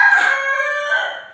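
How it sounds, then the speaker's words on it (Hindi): A rooster crowing outside in the dark early morning, one loud, drawn-out cock-a-doodle-doo heard close and alone, with no talk. "मुर्गा ही बोल रहा है।"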